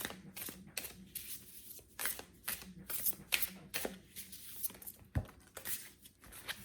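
Tarot cards shuffled by hand in quick riffling bursts, close and crisp, with short pauses between each flurry and no talking.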